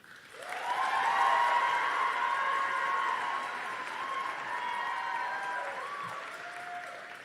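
Graduates at a law school commencement ceremony break into sustained applause and cheering that swells quickly, stays loud and dense for several seconds, then eases slightly while continuing.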